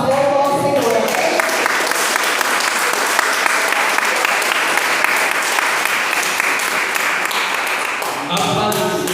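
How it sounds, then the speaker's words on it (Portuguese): A church congregation claps in praise during a family worship service, dense and loud continuous applause filling the room for several seconds, with brief voices at the start and end. "as palmas louvam ao Senhor"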